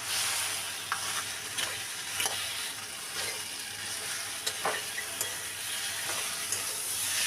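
Rice and a fried fish head are stir-fried together in a pan: a continuous close sizzle broken by regular scraping strokes of a spatula.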